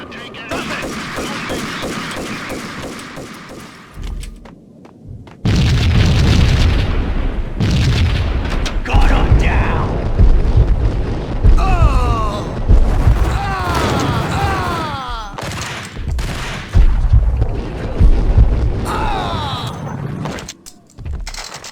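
Bomb blasts and gunfire in the video game Max Payne, loud booming bursts with rapid shot-like crackle running nearly continuously, a narrator's voice woven through the din.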